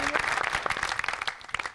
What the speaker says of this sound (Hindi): बहुत सारी तालियां इनके लिए।